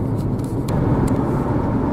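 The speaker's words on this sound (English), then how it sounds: "This is a little car and it's barely ticking over." A little car's engine barely ticking over as it trundles along a French road, a low, steady hum and road rumble with faint passing noise, no talking.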